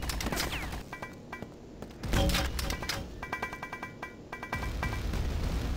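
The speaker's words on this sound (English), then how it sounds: "Those grenades aren't actually hitting him." In Quake 2, grenades pop in quick succession as rapid bursts of game gunfire and explosions, loud and close, with gaps between volleys.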